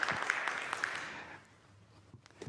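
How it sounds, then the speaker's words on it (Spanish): An audience claps to welcome a speaker onto the stage at a tech community launch event in Chile; the applause is moderately loud at first, then tapers off to near quiet within about a second and a half. "lo vamos a recibir con un fuerte aplauso"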